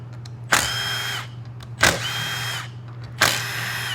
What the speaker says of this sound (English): I still ain't got this ratchet broke in yet on getting the sockets off of it.